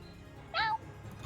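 A single short, clear cat meow rises and falls over a quiet background with faint hum. It is fairly close and stands alone without overlapping talk.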